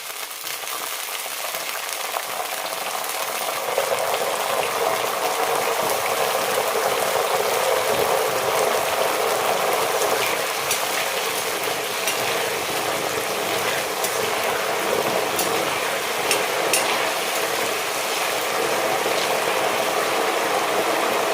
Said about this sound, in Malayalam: ഈ സമയത്ത് ഇതിലേക്ക് ഉപ്പുവെള്ളം തളിക്കാം